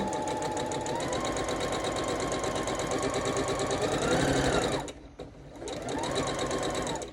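A sewing machine stitches a quilt top with a fast, loud, steady mechanical whir and rattle. It stops briefly near the end, then speeds back up and runs again.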